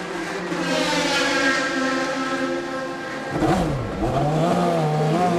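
Loud race car engines drone and rev nearby in the pit lane at the 2001 24 Hours of Le Mans, their pitch rising and sweeping as one pulls away.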